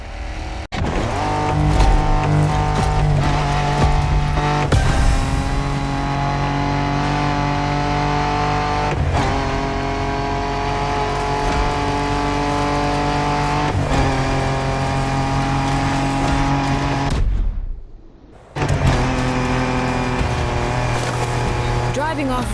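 Off-road race cars from The Crew Motorfest roar steadily with loud, continuous engine drone and shifting revs, broken by a brief drop-out near the end before the engines return.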